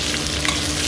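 Garlic and ginger frying with pork belly in a hot iron wok, a steady close sizzle with stirring scrapes running continuously through the short moment.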